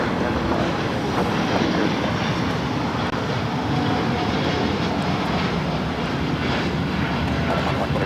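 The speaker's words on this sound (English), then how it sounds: "in the Star Alliance Dreamliner now rolling down at 2-5 right" A Star Alliance-liveried Boeing 787-9 Dreamliner rolls down runway 25 Right at LAX, its engines a loud, steady broadband roar that fills the whole stretch, with faint talk underneath.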